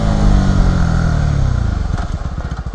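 A Vogue 125R 125cc motorcycle engine roars up close, then settles into a choppy, pulsing idle as the revs drop.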